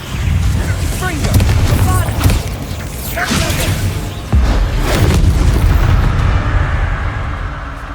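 Confringo fire blasts in the Hogwarts Legacy video game: dense, loud booming bursts crowd one another throughout, with whooshing flares and a steady low roar, and voices are mixed in underneath.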